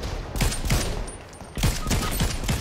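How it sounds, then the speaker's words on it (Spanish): Bursts of gunfire in Fortnite Battle Royale trios, fired from behind: two loud volleys of rapid, closely spaced shots separated by a short lull, with no talking. "Está disparando por detrás."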